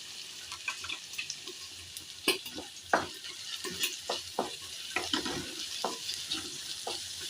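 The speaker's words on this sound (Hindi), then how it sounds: "तो थोड़ा सा अदरक पहले हम भून लेंगे" Chopped ginger fries in a pan with a low, steady sizzle, broken by repeated sharp scrapes and knocks of a spoon stirring against the metal. There is no talking.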